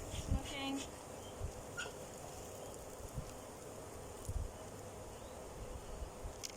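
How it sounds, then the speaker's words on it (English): Honey bees hum around an opened hive being worked with smoke, a faint, continuous buzzing drone with a few closer passes of individual bees and some light rustling, no one talking. "So I smoke them down so I can move the bees down at the same time."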